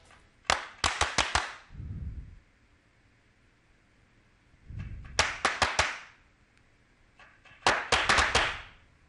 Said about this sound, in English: Maybe I'll go ahead and add a distortion to the clap and see what it sounds like